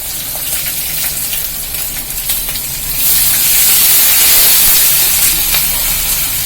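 Ginger, green chilli and asafoetida sizzle in hot oil in a pan for upma, a steady close hiss that swells louder and brighter about halfway through.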